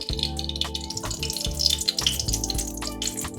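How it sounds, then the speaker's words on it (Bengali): Mustard oil poured into a pan and heating for frying mutton curry, a close hissing, splashy pour and crackle that comes and goes over a steady musical hum. "এবারে তেল গরম করা হচ্ছে দেখুন তেল দেয়া হলো"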